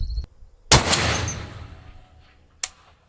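A suppressed Barrett M107 rifle firing ball ammunition, one loud sharp report with a decaying boom, followed a moment later by a second short crack, with no voices.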